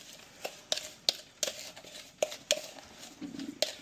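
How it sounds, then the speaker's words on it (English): A spoon stirs Cuban coffee into a paste in a cup, giving sharp clinks and scrapes at an irregular pace, about nine distinct taps, close and fairly quiet, with no talking. "we are going to stir this up until we make a nice little paste"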